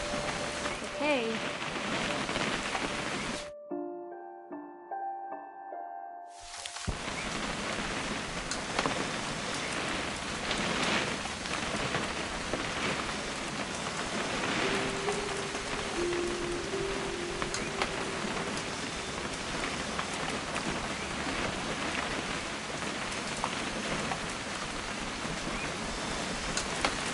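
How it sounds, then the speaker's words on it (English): Steady rain pours in a video game setting, a dense hiss that continues almost throughout, briefly cut out near the start by a short musical passage. "It's gonna rain the whole weekend, isn't it?"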